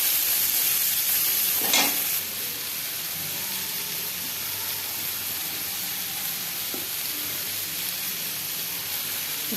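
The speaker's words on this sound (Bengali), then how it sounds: "এবার এই শাকটা তেলের মধ্যে ছেড়ে দিচ্ছি" Leafy greens frying in hot oil, a steady loud sizzle and hiss close up, broken by a few scraping stirs.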